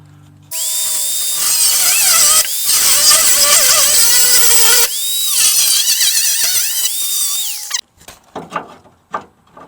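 A power tool screeches while notching metal angle iron for a temporary crossmember on a 1970 Ford Falcon, loud high-pitched cutting in three long bursts separated by short pauses, then a few lighter clanks and scrapes.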